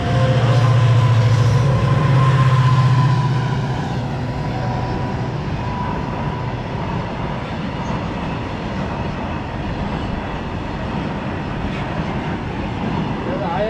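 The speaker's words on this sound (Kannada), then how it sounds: "ಯಾವ ಗೂಡ್ಸ್ ಟ್ರೈನೇ ಇರಬೇಕು." A goods train hauling oil tanker wagons rolls past near Hoode beach in Udupi. There is a loud, steady rumble of wheels on rails, with a low drone that is strongest at the start and then settles into a continuous clatter.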